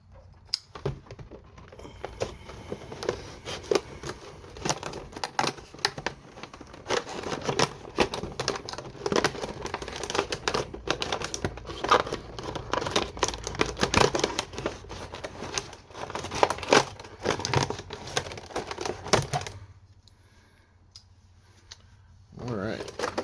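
Plastic packaging on a Marvel Legends Apocalypse action figure is ripped open, a long run of crackling, crinkling tears and rapid clicks, loud and close, ending in a short pause.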